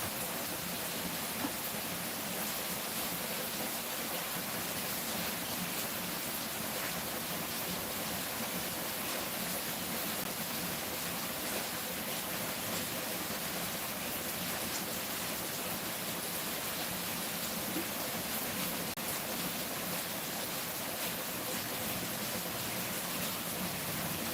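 Heavy rain falls steadily on a Kerala homestead, a dense, even hiss that fills the whole stretch without pause or break, with no voices heard.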